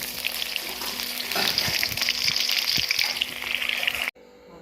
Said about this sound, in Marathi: आता जे आहे अवेलेबल होतं तेवढं मी तळतोय